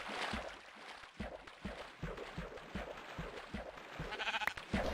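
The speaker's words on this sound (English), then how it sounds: "There's the last sheeps I need for now." Sheep bleating in blocky Alpha Minecraft on an island, short repeated bleats with rhythmic thuddy footsteps or game sounds underneath, fairly faint and steady.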